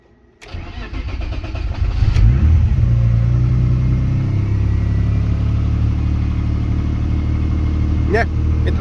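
A car engine running a Speeduino engine management unit with an STM32 card cranks and fires up, then settles into a loud, steady idle with a slight rev, close by.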